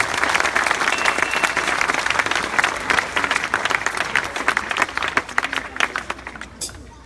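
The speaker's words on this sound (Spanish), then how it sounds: "Denle un aplauso fuerte a nuestro Dios." Church congregation applauding loudly for several seconds, a dense, energetic crowd of clapping hands with occasional voices, building and then thinning out before ending abruptly.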